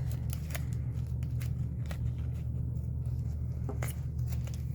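Scissors gummed up with adhesive cutting through duct tape, several sharp snips at an uneven pace, close up with a low hum behind them.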